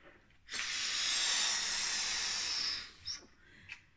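Air hisses steadily through an open valve as a balloon is inflated, a bright, close rush lasting about two seconds before fading, followed by a couple of brief softer puffs.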